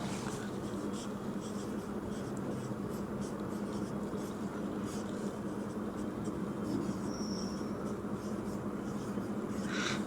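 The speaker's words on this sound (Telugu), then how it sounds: "ఓకే ఇక్కడ రాస్తున్నాను చూడండి" Marker or chalk scratching steadily across a board during a quadratic equations lesson, a continuous dense scraping texture held for the whole stretch with no voice over it.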